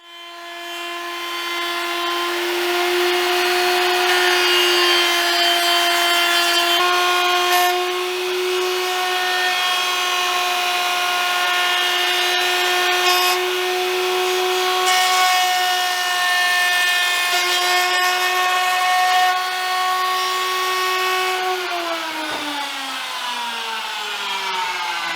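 A wood router runs steadily while cutting a neck pocket into a custom guitar body, a loud sustained whine with a strong tonal drone that dips slightly near the end, close and without speech.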